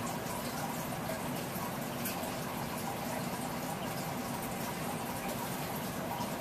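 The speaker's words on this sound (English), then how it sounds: "And there goes the reaction. You see some bubbling occurring here." Baking soda reacts with vinegar in a flask, giving a soft, continuous fizzing and bubbling that stays even and faint throughout.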